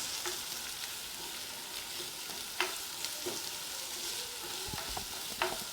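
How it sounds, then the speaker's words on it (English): Chopped onion sautés in a pan, a soft continuous sizzle broken by several light scraping stirs and occasional small clicks of the utensil, fairly quiet and with no voices. "So in goes my onion. I'll go ahead and start sauteing that."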